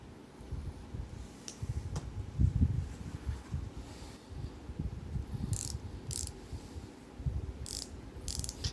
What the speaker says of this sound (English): And the ratchet mechanism on it is just not the greatest. It actually hangs up.